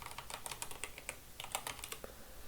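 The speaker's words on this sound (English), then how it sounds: "Then just click on the search bar and just type in Booking.com." Rapid typing on a computer keyboard, a quick irregular run of light clicking keystrokes, close and fairly quiet, with no voices.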